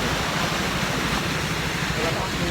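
Strong rushing water pouring through an irrigation canal, a dense, loud, steady roar throughout.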